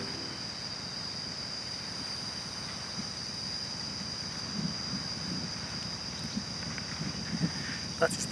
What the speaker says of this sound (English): That is the sound of cicadas ashore.